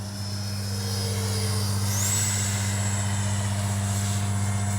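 An Arrows 50mm Avanti S RC sport jet with an electric ducted fan flies past, a steady loud whine that rises sharply in pitch midway as it passes, with no voices.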